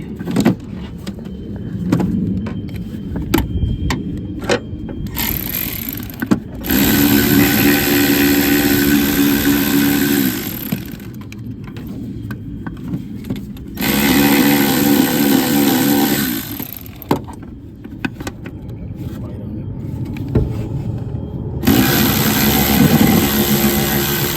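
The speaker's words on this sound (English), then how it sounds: "I'm going to come in here with a long 10 and my electric ratchet" An electric ratchet with a long 10 mm socket loosens a bolt on a 1994-1997 MN12 Cougar or Thunderbird dashboard, running in several loud, close whirring bursts of a few seconds each, separated by quieter pauses.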